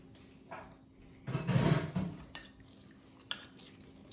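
An egg gets stirred into cookie dough in a bowl, with a spoon scraping and clinking against the bowl in a short burst, close and moderately loud, followed by a few lighter taps.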